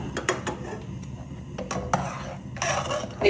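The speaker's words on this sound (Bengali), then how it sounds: "তো আমি স্যুপটা এখন বেড়ে নিব বাটিতে" Homemade soup being served from a pot into a bowl, with a series of light metallic clinks and scrapes of a ladle against cookware, close and irregular, with a louder rattling stretch near the end.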